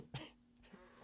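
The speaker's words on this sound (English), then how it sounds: "I'm coughing." A single faint cough, short and husky, then a softer follow-up like a throat clear, with low background hum and no talk.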